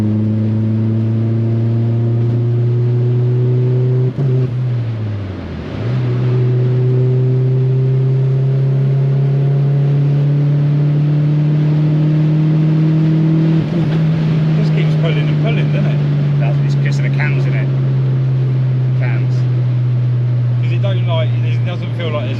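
A Rover 220 Turbo coupe accelerating under boost: a strong engine drone climbs steadily in pitch, dips once as the revs drop, then pulls up again. People talk inside the car over the engine.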